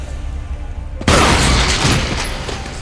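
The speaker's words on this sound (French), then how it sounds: "Ah, j'ai fait bouffer une grenade." A grenade blows up in the video game Resident Evil, a single sudden loud boom about a second in over game background noise, with a rumbling tail that slowly fades.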